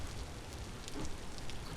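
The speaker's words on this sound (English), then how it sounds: "And sleeping in the rain on a grass bed." Steady rain falls in the survival video game Vintage Story, a soft continuous patter of drops with a few brighter splashes scattered through it, moderately quiet and alone.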